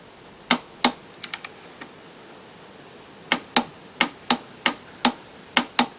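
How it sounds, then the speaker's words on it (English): A torque wrench tightens the rear brake caliper bolt on a 2015 Honda CBR650F, giving crisp, close metallic clicks in short bursts, first a few scattered, then a quicker run of evenly spaced ticks. "the caliper bolt itself is to be tightened up to 22 Newton meters"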